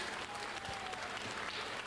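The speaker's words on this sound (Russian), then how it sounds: "тебе аплодисменты отдельные, как наши очаровательные гости. Давайте поаплодируем." Audience at a children's pop song contest applauds after a young singer's performance, a dense, even roar of clapping filling the whole short stretch.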